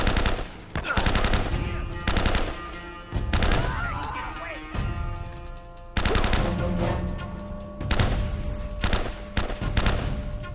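Gunfire during a firefight in the Uncharted video game, loud repeated bursts of automatic and single shots cracking over several seconds, with brief pauses between volleys.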